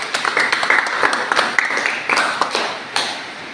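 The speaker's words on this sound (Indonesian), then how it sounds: "silakan tepuk tangan buat Ade Erlis" Scattered clapping from a small catechism class in a church congregation, a rapid patter of hand claps that thins and trails off over a few seconds, with faint voices murmuring underneath.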